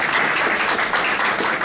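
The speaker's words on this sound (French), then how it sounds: "Applaudissons le Seigneur." A church congregation applauding during a service, dense rhythmic clapping from many hands, steady and fairly loud throughout.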